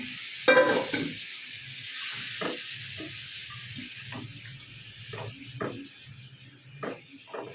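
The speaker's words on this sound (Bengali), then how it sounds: "এই যে একটু পানি দিয়ে দিলাম" A splash of water goes into a hot pan while making sweet vermicelli. It starts with a sharp burst of sizzling, then settles into quieter bubbling with scattered clicks and taps from a utensil.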